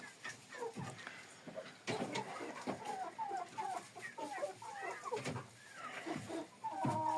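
Jersey Giant and Livenska chickens on a farm in the early morning cluck and murmur continuously, with several birds calling close by in overlapping, uneven bursts and no speech.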